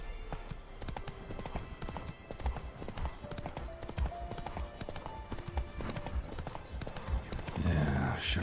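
Horse in the video game The Witcher 3: Wild Hunt, steady rhythmic hoofbeats of a fast gallop near and clear, with game music and brief speech over them and a louder burst at the end.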